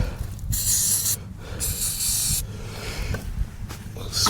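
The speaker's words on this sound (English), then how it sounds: "Spray them on and then we'll give them a spin round." An aerosol can sprays grease onto Simex planer picks in several long, loud hissing bursts with brief pauses between them, close up.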